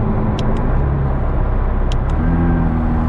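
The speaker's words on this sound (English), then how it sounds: "you'll hear a little bit of the engine there as I kick it up a little bit" A 2019 McLaren 600LT engine rumbles and hums steadily up close as it revs slightly, with a few faint higher clicks over the drone.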